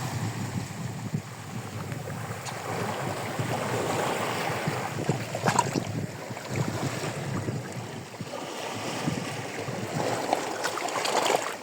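Black Sea waves wash onto a wild beach near Odesa in a steady, close surf roar lasting throughout, with wind buffeting the microphone and no voices.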